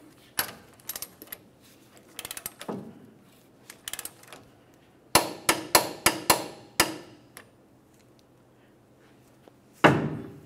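A wrench clicking as the lower ball joint nut is torqued to 110 ft-lb on a 1994-2002 Dodge Ram 2500, heard as bursts of sharp metallic ratchet clicks in quick runs separated by pauses.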